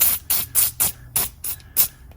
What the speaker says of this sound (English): So I'm gonna spray them with a little